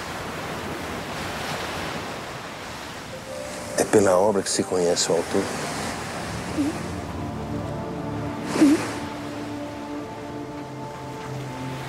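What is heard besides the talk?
ocean waves on a beach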